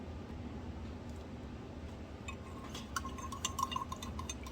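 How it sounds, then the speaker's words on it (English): A mixed liquid is stirred and poured for scenting cardstock air fresheners, with faint soft sloshing that gives way to small glassy clinks and ticks near the end, quiet and close over a low background hiss. "now I'm going to stir this very well, mix it up, and then I'm going to pour it"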